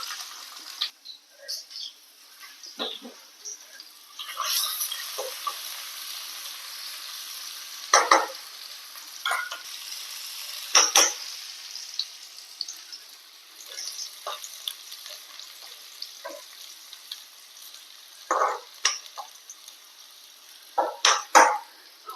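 Chopped shallots fry in coconut oil in a clay pot, a faint, steady sizzle broken by intermittent scraping and stirring clatters; no one speaks.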